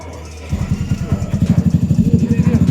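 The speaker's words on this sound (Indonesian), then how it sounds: "Nyalakan mesin." A Yamaha scooter at a custom-scooter gathering starts by voice command: a short crank catches at about half a second, then settles into a close, loud, even putter of idling, with chatter around it.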